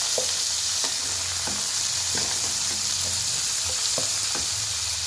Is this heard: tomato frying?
yes